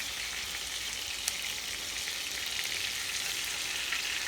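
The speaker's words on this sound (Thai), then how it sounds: "ทอดแหนมยั่วๆ" Naem, a Thai fermented pork sausage, fries in a pan with a steady, close sizzling hiss and a few faint pops.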